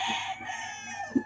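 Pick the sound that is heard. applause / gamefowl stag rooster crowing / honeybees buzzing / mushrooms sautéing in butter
gamefowl stag rooster crowing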